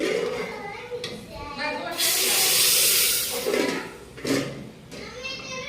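A loud, sustained sizzle hisses up as asafoetida and red chilli hit hot oil for tempering, then settles, with other faint noises around it.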